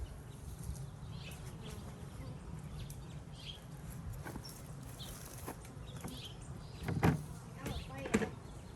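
Bees droning steadily around an open beehive during an inspection, a continuous close hum with a few sharper knocks and clatters near the end.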